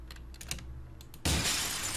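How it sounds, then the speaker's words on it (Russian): A noisy computer keyboard clicks in a quick, uneven run of keystrokes during a Resident Evil 4 game session, close but quiet, then a sudden loud burst of shattering game sound drowns it out. "Я извиняюсь, что клавиатура, наверное, шумная."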